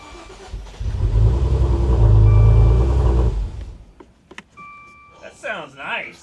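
A flood-damaged Maserati, fully submerged in a Florida hurricane, cranks and fires with a loud, close engine roar lasting a few seconds before cutting out, followed by quieter clicks and people talking.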